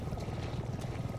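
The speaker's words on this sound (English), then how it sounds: "It's a helicopter." Helicopter in the horror game Resident Evil 7, heard as a steady low rotor chop that holds evenly through the short stretch, moderately loud and close, with no voices over it.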